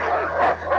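Wild dogs bark in a 1973 comedy film scene, a dense, continuous burst of overlapping barks and yips at moderate volume.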